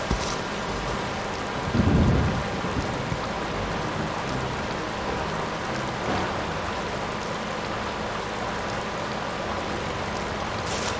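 Heavy rain pours steadily in the Tonka Rescue Patrol game on GameCube, a dense hiss throughout, with a single low rumble of thunder swelling near the start.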